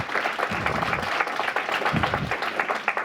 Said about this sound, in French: je vais quand même vous faire applaudir l'association qui nous reçoit parce que c'est important.